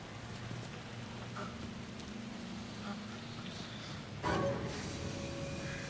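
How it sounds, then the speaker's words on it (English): Steady rain in Alan Wake 2 patters and hisses throughout, with a sharper burst of noise near the end over a low background tone. "And it's raining now?"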